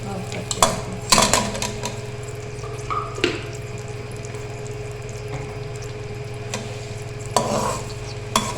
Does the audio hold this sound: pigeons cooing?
no